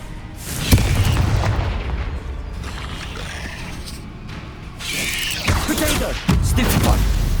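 Confringo fire spell explosions from Hogwarts Legacy: heavy booming blasts burst out in several loud waves, with a rumbling, crackling tail between the strongest hits.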